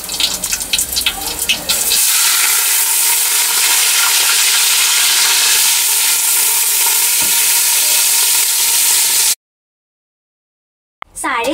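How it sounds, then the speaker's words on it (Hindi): Rice fries in hot ghee in a pan, a loud, steady sizzle with occasional stirring scrapes for several seconds before cutting to silence, then briefly resuming. "घी में हम इस चावल को अच्छे तरीके से भूनेंगे।"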